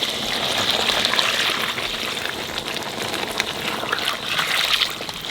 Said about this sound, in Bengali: এইবার মাংসের মধ্যে গরম জল দিয়ে দেবো।